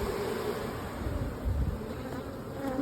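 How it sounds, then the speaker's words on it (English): Honey bees buzz steadily around stacked hive boxes during a honey harvest with a fume board, a dense, continuous insect drone close by with no talking. "trying to get these bees out of here"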